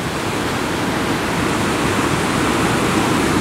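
Raging water on the Achray river rushes in a steady, loud, dense roar that holds unbroken throughout, heard close by with no voices.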